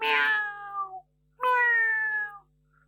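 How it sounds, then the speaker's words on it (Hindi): Two clear, close cat meows, each long and falling in pitch with a pause between them, used as a sound effect in an audio story. "कपूर अचानक बिल्ली की आवाज सुनकर चौंक पड़ा।"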